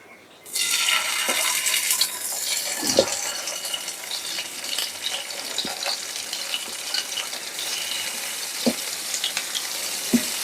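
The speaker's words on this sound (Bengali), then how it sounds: "এখন আমি ট্যাংরা মাছগুলো ভাজবো।" Tengra fish hit hot oil and burst into a loud, continuous sizzle after a brief quiet moment, with scattered pops and spatters over the steady frying hiss.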